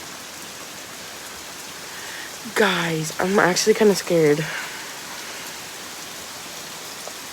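Steady, heavy rain pours outdoors among trees during a flash flood, a constant close hiss that fills the whole stretch, with a person speaking briefly partway through.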